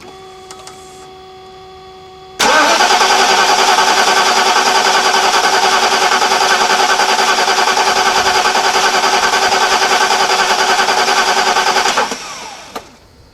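A 1991 Mercedes-Benz 420 SEL engine is cranked on a fresh battery, a loud steady whirring drone that starts abruptly and runs for about ten seconds before fading, with no voices.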